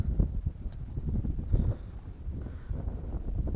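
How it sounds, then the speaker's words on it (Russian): A strong east wind gusts across a riverside camp, roaring and buffeting the microphone in a continuous rumbling blast, with no speech. "Восток дует, блин."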